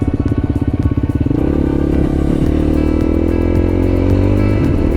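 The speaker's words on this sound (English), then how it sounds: "My motorcycle's doing a lot better with it, but Man, it is loose sand" A motorcycle rides a rough, loose-sand dirt road, its engine rumbling steadily and close. At first it pulses with a rapid firing rhythm, then settles into a continuous drone with light rattling over the uneven ground.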